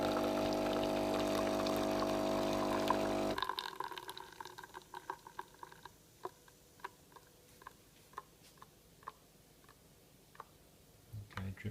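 An Aldi Expressi pod coffee machine runs its pump with a loud steady buzzing drone for about three seconds, then goes quiet and leaves a run of soft, regular drips and ticks as the coffee finishes.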